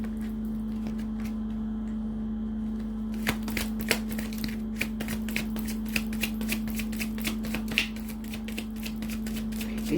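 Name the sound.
tarot cards being dropped and handled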